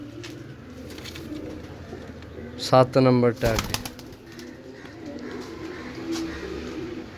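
A Teddy pigeon coos clearly for about a second, close by, over a steady background hum with people talking faintly.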